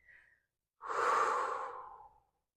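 Breathing during yoga practice: a short faint breath, a pause, then one long, close, airy exhale lasting over a second before fading to silence.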